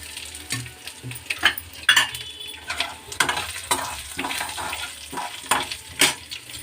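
Chutney ingredients with fresh coconut pieces frying and being stirred in a pan for tomato roti pachadi: a steady soft sizzle with repeated scraping strokes and light clinks of a spoon against the pan, close up and with no talk.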